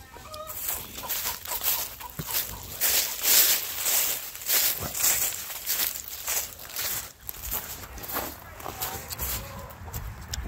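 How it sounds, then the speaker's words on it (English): Chickens clucking and scratching about nearby, with footsteps and rustling over a steady outdoor background. "Chickens, chickens, a lot of chickens."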